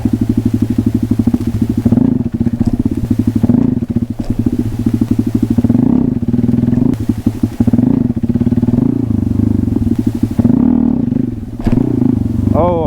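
A Honda Grom motorcycle engine hums steadily up close during wheelie practice, its throttle repeatedly surging and dropping back in a rough rhythm of revs.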